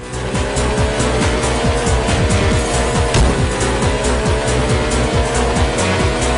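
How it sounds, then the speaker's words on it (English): Retro top-down car racing on iPhone, with a steady buzzing engine drone and tire squeal running throughout, loud and continuous with no talk. "This is retro racing for the iPhone."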